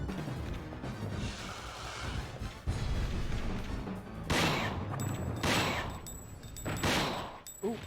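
Gunshots in the PS1 survival horror game Dino Crisis, several loud, sharp reports in the second half, the last ones close together, over a dense game soundtrack with a voice talking intermittently.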